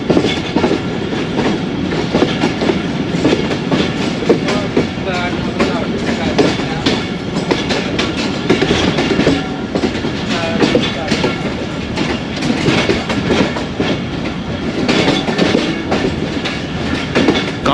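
Passenger train running along the Lahore to Narowal branch line, a steady close rumble with rhythmic clickety-clack of wheels over rail joints throughout, loud and continuous.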